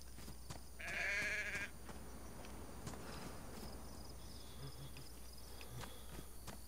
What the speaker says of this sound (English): Is that a fucking sheep?